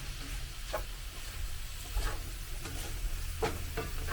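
Turkey stir fry sizzling steadily in a pan as soy sauce goes in, a constant close hiss with occasional brief crackles and stirring scrapes, no talking.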